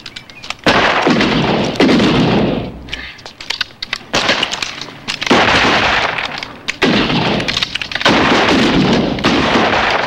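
Guns are fired in a 1989 film after a ready, aim, fire command, giving several loud, harsh bursts of shots and cracks across ten seconds, separated by short gaps, with faint voices in between.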